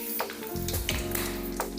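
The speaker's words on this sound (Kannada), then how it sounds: "ಸಾಸಿವೆ ಚಿಟಿಪಿಟಿ ಗುಡ್ತಾ ಇದೆ" Mustard seeds crackle in hot oil in a pan, added after urad dal has browned, while tempering for a Karnataka vadakki mudde dish; close, irregular sizzling with sharp little pops over a steady fry hiss.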